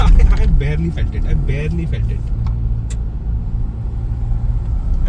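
A Mahindra Scorpio N driving over a rough road patch, heard from inside the cabin as a steady low rumble with light road noise, while people talk over it at the start.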